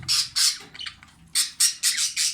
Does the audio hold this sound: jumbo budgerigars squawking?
yes